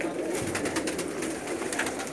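Pigeons cooing softly and repeatedly, close by, over a steady hiss of background noise with no clear talking.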